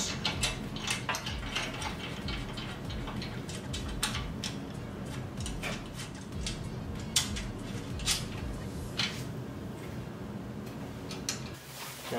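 Provided bolts being tightened to secure a golf bag carrier on an electric bike, a steady run of quick ratcheting clicks and tool ticks, close and moderately loud, with no talking.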